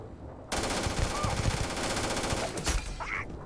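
A close-range weapon fires in Starfield, a loud sustained automatic burst of rapid shots that starts abruptly and runs for about two seconds before trailing off, with a brief faint game sound after.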